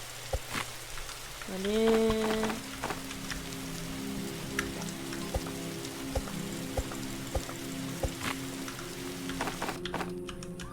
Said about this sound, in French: Bah, il a recommencé à pleuvoir.